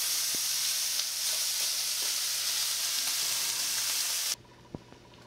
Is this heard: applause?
no